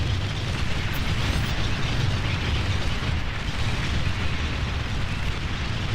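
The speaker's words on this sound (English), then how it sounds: "Looks like the last commander is here, and they're getting ready to bomb him into the ground." Continuous heavy bombing in the strategy video game Beyond All Reason as the last commander is destroyed: a dense, loud, unbroken roar of overlapping explosions with no pauses.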